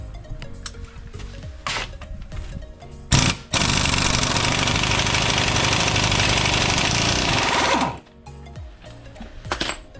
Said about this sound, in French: Moi je suis équipé d'une bonne boulonneuse, donc il n'y a pas ce souci là.